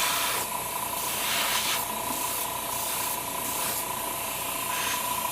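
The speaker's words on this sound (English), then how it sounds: "then I'm going to top coat it" Top coat sprayed from a can onto an HG Uraven Gundam plastic model kit, a steady close hiss that runs unbroken from start to finish, with no talking.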